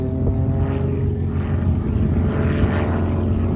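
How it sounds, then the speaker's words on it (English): A vintage Luftwaffe trainer airplane, over 80 years old and flying aerobatics, drones loudly and steadily with a propeller engine. It is close and continuous, with the pitch rising and falling slightly. "And as you can see, this is a very agile airplane."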